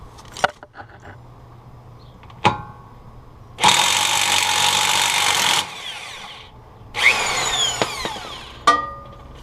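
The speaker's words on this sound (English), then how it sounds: "First thing you need to do, you need to get the 36mm wheel spindle nut removed. I'm using an electric impact gun." An electric impact gun loosens the 36mm wheel spindle nut on a 2006-2011 Honda Civic, firing in two loud, hammering bursts of about two seconds each, with sharp metallic clanks before and after.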